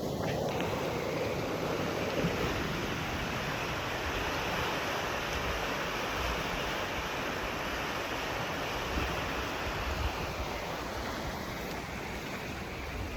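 The Chama River rushes steadily in a continuous broadband roar heard close by, with some wind noise mixed in and no talking.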